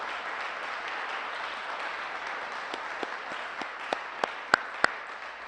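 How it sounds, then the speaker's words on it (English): Applause from an audience for a State Representative rolls on steadily as a soft, dense patter, with a few sharp, louder individual claps standing out near the end. "Please join me in giving her another round of applause."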